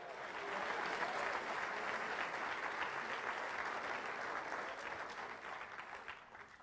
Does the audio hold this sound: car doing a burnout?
no